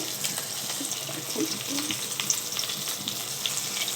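Corn pakoras sizzle and crackle steadily in hot oil, a close, continuous frying hiss with small pops, with no talking.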